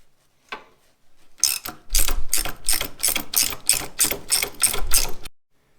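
A hand ratchet works rusty skid plate bolts on a 70-year-old Caterpillar D4 crawler, a fast run of sharp, evenly spaced clicking bursts, close and loud, with no talking.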